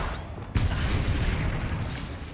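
A spell blast from Confringo in Hogwarts Legacy, a single sudden boom that leaves a dense, rumbling roar sustained under the scene, moderately loud with no talk.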